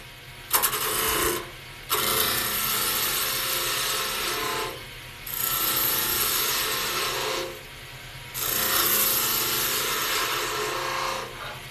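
Wide skew chisel cutting a V groove into wood spinning on a lathe, a steady loud scraping rasp in several long passes separated by short pauses, with no talk.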